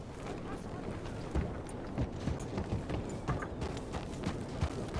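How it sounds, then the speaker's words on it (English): A horse's hooves clip-clopping in the video game Red Dead Redemption 2, a steady, evenly paced run of hoof beats that carries on throughout over a busy in-game background. "Look at my horse."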